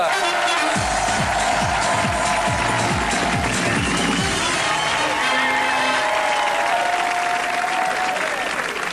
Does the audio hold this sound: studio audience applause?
yes